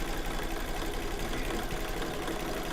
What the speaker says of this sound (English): So it's going to stitch it around twice.